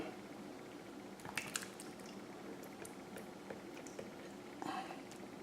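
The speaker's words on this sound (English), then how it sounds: "Then I'm going to pour this salsa all over it." Salsa is poured over thick pork loin chops in a dish, giving faint wet squishing and dripping with a few soft splats, quiet and close.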